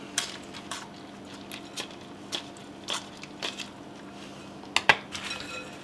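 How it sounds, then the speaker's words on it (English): Potato wedges tossed with shredded Parmesan in a bowl, giving a series of soft, irregular clinks and scrapes against the bowl, near and moderately quiet, with one sharper clatter near the end and no talking. "Give that a nice mix."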